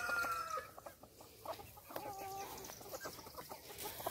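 A mixed flock of older and younger homestead chickens clucks and murmurs nearby, with overlapping soft clucks and one higher drawn-out call, quiet and low in level against faint farmyard background.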